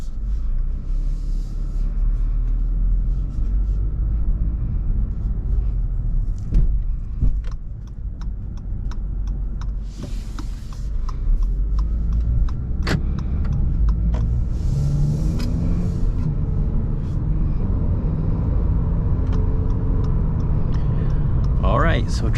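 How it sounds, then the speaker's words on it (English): A 2022 Acura ILX sedan cruises with a low, steady cabin rumble of engine and road noise, plus occasional clicks and taps, under a person talking throughout. "Alright, so driving this 2022 Acura ILX"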